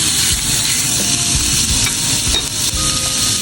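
Sauce hits a pan of frying pansit miki noodles, giving a loud, close, steady sizzle with scraping stirs and small pops throughout.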